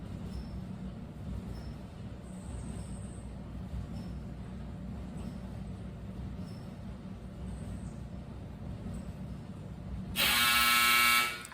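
A clothes dryer buzzer sounds near the end, a loud steady electronic drone lasting about a second after a long stretch of quiet room hum, with no speech.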